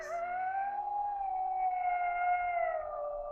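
A lone coyote-like howl rises and slowly falls in a long, clear wail, moderately distant and faint against a quiet night.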